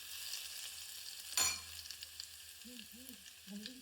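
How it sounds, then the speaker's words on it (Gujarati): Minced garlic and black pepper sizzling in hot oil for a tempering, a sharp burst of frying near the middle, then a steady hiss with a few faint clinks as potato curry begins. "લસણ અને મરી જે ઝીણું કર્યું હતું,"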